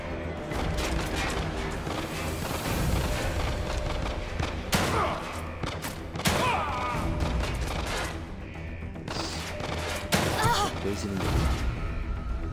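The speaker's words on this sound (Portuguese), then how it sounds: "Três tiros." Gunshots ring out in the survival horror game The Evil Within 2, a few sharp reports at irregular moments over game ambience and music, with someone talking in Portuguese between them.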